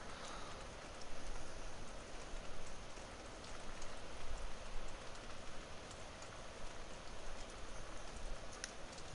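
Steady rain pours down in the Farming Simulator 17 logging map Pacific Inlet, a dense, continuous hiss of drops with faint spattering on surfaces, evenly loud and unbroken for the whole stretch.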